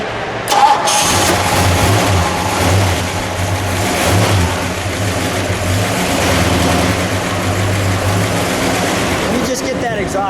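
A 1970 Ford Torino Cobra Sportsroof with a 429 V8 cranks and fires up loudly and close, then settles into a deep, lumpy idle with slight revving, and a voice speaks briefly over it.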